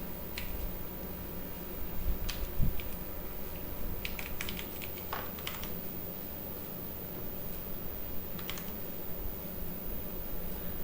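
A computer keyboard is typed on in short scattered bursts of light key clicks against a steady low hum, fairly quiet and close, with no one speaking.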